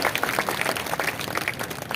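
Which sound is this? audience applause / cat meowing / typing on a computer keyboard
audience applause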